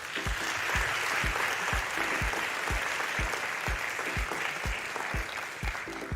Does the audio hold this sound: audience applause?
yes